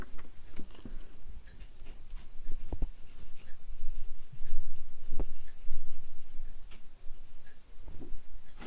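A graphite pencil with slightly scratchy lead scrapes across paper in close, steady strokes, with occasional sharper taps and pauses and no talk over it.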